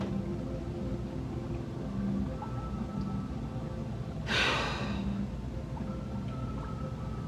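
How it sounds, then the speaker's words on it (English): A deep cleansing breath during a seated chair yoga session, heard as a single forceful, breathy exhale lasting about half a second, close by over a steady low background hum. "let's take our deep cleansing breath in deep through the nose with a forceful"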